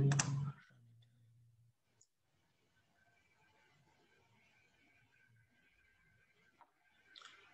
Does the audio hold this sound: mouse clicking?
yes